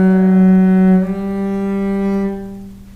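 A cello plays sustained bowed notes up close, shifting pitch in a simple finger pattern on one string, with no talking.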